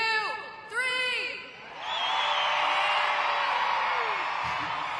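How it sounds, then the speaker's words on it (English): In a Monster Jam arena in Spokane, an amplified announcer's voice gives way to a large crowd of women screaming loudly together, a sustained high roar that holds for several seconds. "if you are a female here today, I want to hear you on the count of 3 scream as loud as you can"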